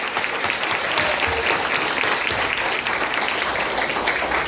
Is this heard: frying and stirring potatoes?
no